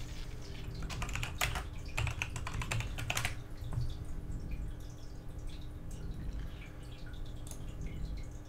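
A computer keyboard with no numlock key clatters under quick bursts of typing while someone plays the retro MMORPG Anarchy Online. Dense clusters of keystrokes come first, then sparser single clicks over a low steady hum.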